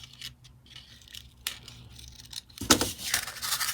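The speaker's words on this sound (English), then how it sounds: "I'm just going to go ahead and trim around the edges." Scissors trim around the edges of a papercraft shaker on a 3D coffin box, giving a few soft snips early and then a louder burst of cutting and paper rustle near the end.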